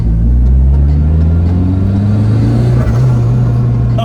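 A loud, close turbocharged Ford Puma engine rumbles and climbs steadily in pitch as it accelerates hard, droning continuously throughout.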